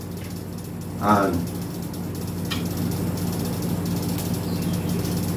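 A ring clamp is worked off the terminal of an automatic voltage regulator under repair, giving a brief ratcheting, clicking mechanical sound and a faint later click over a steady electrical hum, with a little speech.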